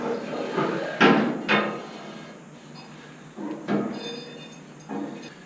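A steel safety bar slides through the holes of a hydraulic motorcycle lift, giving several metallic clunks and scrapes at irregular intervals, moderately close in a quiet workshop.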